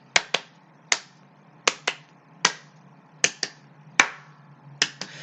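Sharp hand claps land in quick pairs, four double claps spread evenly over a few seconds, close and crisp against a quiet background with no talking.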